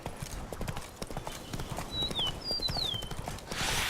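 Horse hooves gallop in a steady, rapid clip-clop rhythm in The Witcher 3: Blood and Wine, close and continuous, with a few faint bird chirps above.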